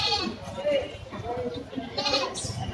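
Goats bleat at a busy goat market, several overlapping cries close by over crowd chatter and people talking.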